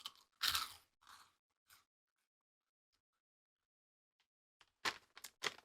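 Loud, close crunchy chewing of a crunchy worm in a few bursts, a pause of near silence, then another quick run of crunching bites.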